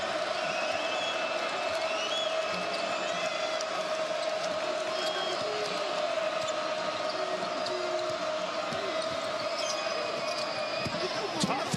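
A basketball game crowd fills an arena with a steady, distant roar of cheering and chatter, sneakers squeaking faintly beneath, while a commentator talks over it.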